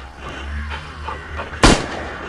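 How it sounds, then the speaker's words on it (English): An infantry rifle fires once in the zombie video game Into the Dead, a single sharp loud blast near the end after a stretch of low ambient rumble. "The infantry rifle."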